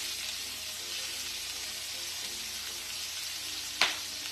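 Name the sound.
coconut chicken frying with water splattering in pan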